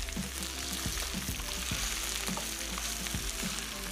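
Chicken fries in a green masala, sizzling steadily and loudly up close, with repeated soft knocks of a spoon stirring the pan at a regular pace.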